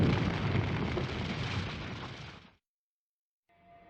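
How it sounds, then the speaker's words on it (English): A bombing explosion in the Arknights video game hits as a loud, heavy, rumbling blast that fades out over about two and a half seconds, then silence, then a faint tonal sound enters. "the bombing commences"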